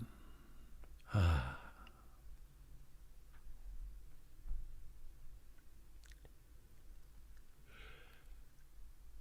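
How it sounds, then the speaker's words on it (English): A meditation guide exhales slowly in a single soft, breathy sigh near the start, followed by quiet room tone with faint ticks and a brief second breath later. "and then breathing out"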